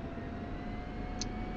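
Military jet idling or taxiing on a runway in the DCS flight simulator during a Syria campaign mission, a steady broadband engine roar with a constant whine and a brief higher-pitched blip near the end.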